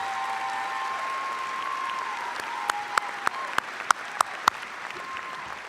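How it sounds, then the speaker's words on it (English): Scattered applause at a college graduation ceremony. A few sharp, distinct claps ring out over a steady hum of background noise, faint and sparse rather than a full ovation. "please give one more applause for not only our distinguished alumni, but for our keynote speaker this evening"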